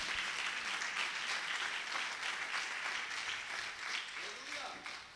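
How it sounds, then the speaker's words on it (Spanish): A church congregation breaks into sustained, dense applause as an offering of clapping, steady and enveloping, heard from a little distance with voices faintly mixed in. "Vamos a dar una ofrenda de palmas."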